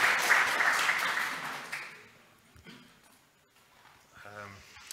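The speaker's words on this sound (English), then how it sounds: "Round of applause for Michael." Audience applause for a presenter at a technical conference talk, a broad wash of clapping that is loudest at the start, fades away over about two seconds, and is followed by near quiet with a few faint voices.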